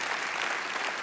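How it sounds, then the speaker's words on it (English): Warm audience applause at the opening ceremony of the Erasmus academic year in Rotterdam, a dense, steady wash of many hands clapping that fills the whole moment without a break. "a big warm applause for Alderman Said Kazmi of the city of Rotterdam that just joined us"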